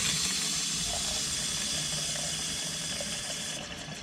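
An RV's hot water faucet runs during winterizing, a steady close rush of flowing water that carries on evenly and eases off slightly at the very end.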